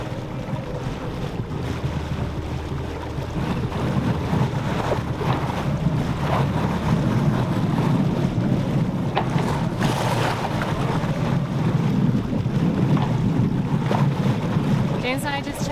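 A sailboat running downwind at 4.5 knots under a first-reefed mainsail with no headsail, in strong wind at the head of a mountain channel: steady broadband wind rush and water wash, loud and continuous, with a brief voice partway through.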